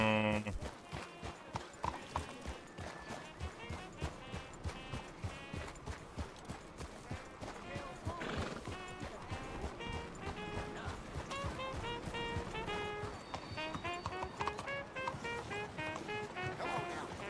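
Horse hooves clip-clop steadily in the Red Dead Redemption 2 video game on PC, a regular rhythmic beat that picks up into a gallop, layered with in-game music and ambient sounds.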